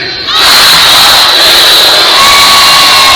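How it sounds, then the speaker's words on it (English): A large crowd of kids shouts and chants Taco Tuesday together, a loud, sustained roar of young voices that swells after a brief quiet start and stays dense throughout. "He got a crowd of kids to chant Taco Tuesday with him."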